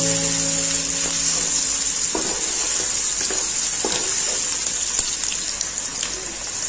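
Onions sizzle steadily in a pan for a kaleji masala, a loud continuous hiss with scattered crackles close up, no talk, and a brief low hum fading out at the start.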